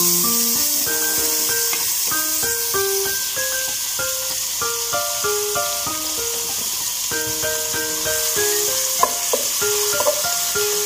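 Chopped onion sautéing in hot cooking oil gives a steady, soft sizzle that runs beneath louder background music throughout.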